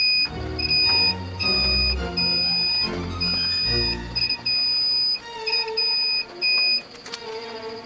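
Multimeter in continuity buzzer mode testing a 27-pin switch on a Polytron DAT 56 karaoke tape deck, giving repeated shrill beeps in irregular bursts of varying length, loud and close, with clicks and handling noise between.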